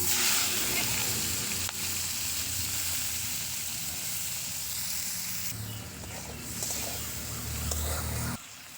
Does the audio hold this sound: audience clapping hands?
no